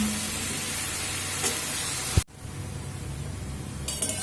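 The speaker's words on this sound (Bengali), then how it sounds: "এই সজিনা শাক তো এইভাবে মিডিয়াম ফ্লেম করে রান্না করে নেব" Drumstick (moringa) leaves cook in a pan over a medium flame for a village-style shrimp fry, giving a steady close sizzle that drops out abruptly midway, then resumes slightly softer.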